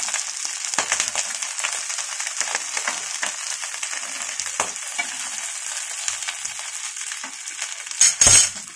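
Banana flower patties sizzle steadily in hot oil in a pan, a dense continuous frying hiss with small crackles, ending in a brief louder clatter near the close.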